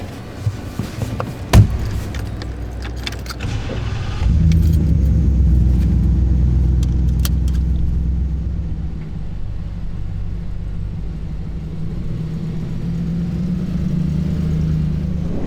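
A gas Ford Bronco restomod starts with jangling keys and clunks up close, then its engine settles into a loud, steady rumble that holds as the truck drives away.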